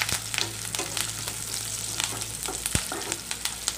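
Green chillies, red chillies and curry leaves frying in hot oil, a crackling sizzle with frequent sharp pops and spatters, close and moderately quiet, with no talking.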